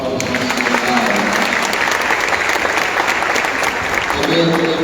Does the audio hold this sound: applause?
yes